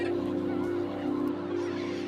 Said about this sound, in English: Many birds fly over the island.